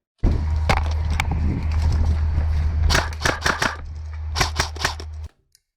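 A rapid series of sharp, snappy shots from an airsoft gun over a steady mechanical hum, ending abruptly.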